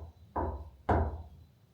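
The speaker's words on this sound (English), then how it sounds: "what I'm going to try now is to do a knock" Two sharp knocks on a surface inside Frankenstein Castle in Darmstadt, Germany, about half a second apart, each with a short hollow ring-out in a quiet room.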